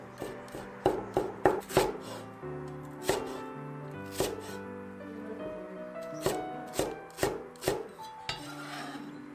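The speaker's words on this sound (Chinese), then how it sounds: "再来切点葱姜蒜备用" A knife chops scallion, ginger and garlic on a cutting board in quick bursts of sharp taps, pausing between runs, with soft background music underneath.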